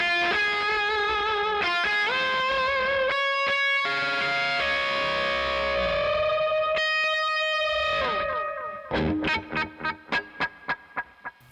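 Sustained distorted electric guitar notes swell and bend, then a final chord repeats in fading echoes from a delay effect.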